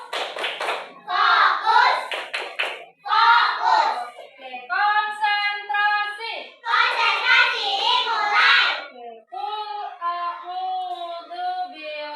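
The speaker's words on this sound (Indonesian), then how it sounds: "tepuk tangan" Children clap their hands together in a classroom Quran lesson, bursts of clapping alternating with a teacher's voice and pupils chanting, loud and close throughout.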